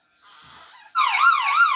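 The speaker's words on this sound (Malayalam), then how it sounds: "നോക്കൂ ഫ്രണ്ട്സ്, സൈറൻ സൗണ്ട് വരുന്നുണ്ട്" A door security alarm trips on opening: a faint hiss, then a loud, close electronic siren wailing in rapid rising and falling sweeps.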